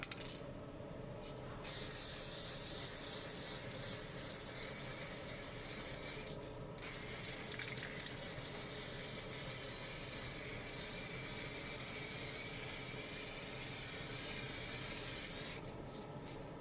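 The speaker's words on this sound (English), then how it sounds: "spray the clock parts from one side" An aerosol spray paint can hisses in three long bursts with short pauses between them, loud and close, spraying clock parts.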